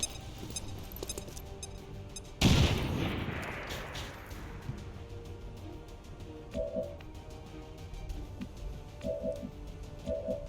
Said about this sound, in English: We'll go ahead and drop another grenade on this robot.